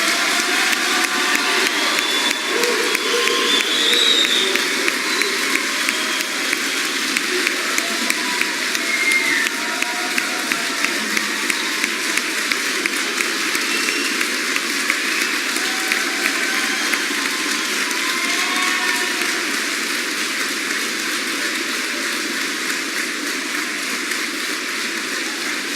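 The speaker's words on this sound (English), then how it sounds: "Please give all these very deserving soldiers of Charlie Battery a round of applause." An audience at an Army basic training graduation at Fort Sill, Oklahoma, honoring Charlie Battery, 1-40 Field Artillery, gives long, steady applause, a dense rain-like patter of many hands lasting over twenty seconds with faint shouts.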